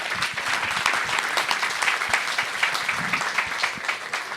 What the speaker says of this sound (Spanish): Un aplauso para Sergio